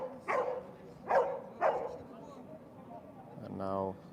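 A dog at a Mondioring competition barks three times in a spaced rhythm at moderate distance, followed by a voice talking.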